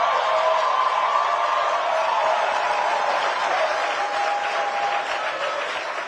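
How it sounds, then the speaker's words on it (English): An audience breaks into sustained applause, dense clapping with some crowd noise that holds steady for several seconds and tapers slightly toward the end. "If you want to stand up and get applause"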